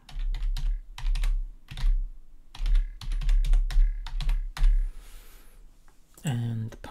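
Clicky keystrokes from a computer keyboard tapping out a login entry in quick bursts, close and fairly loud, with pauses between runs and a voice talking over parts of it.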